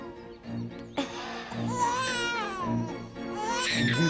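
A baby cries and whimpers in short, wavering bursts, fairly close and moderately loud, with a little adult speech around it.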